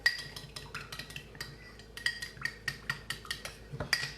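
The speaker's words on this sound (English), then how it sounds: "A teaspoon of Dijon mustard, and just give all of this a nice stir." A utensil clinks quickly and rhythmically against a dish while stirring a salad dressing of maple syrup and Dijon mustard. The close, light metallic strokes come in steady bursts with no talking.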